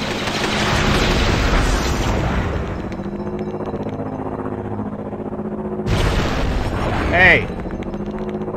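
Bomb explosions in Lego Star Wars The Complete Saga, a rumbling blast that swells and lingers, then a second burst near the end, loud and close under excited talking and a shout.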